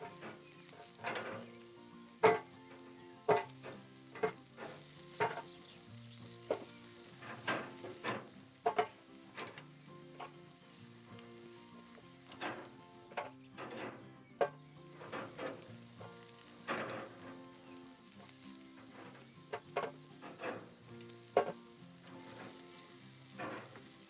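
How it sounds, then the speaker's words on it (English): Chicken wings fry in oil for a peanut butter and jelly wing recipe, giving a steady low sizzle broken by frequent sharp pops and crackles throughout. "We're gonna fry them for a couple of minutes"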